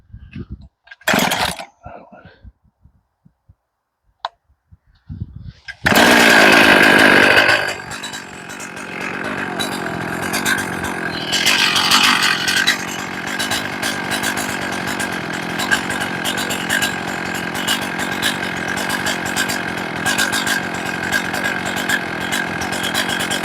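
Chainsaw fired up after tuning and run off the bench, a burst of loud revving at start-up settling into a steady, sustained high-pitched engine drone that carries on to the end, with a few faint sounds before it starts.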